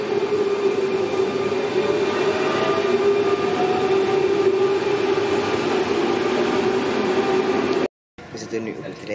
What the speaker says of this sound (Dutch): Nu op de trein richting Antwerpen.